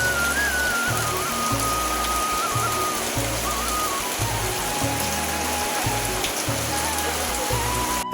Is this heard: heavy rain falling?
yes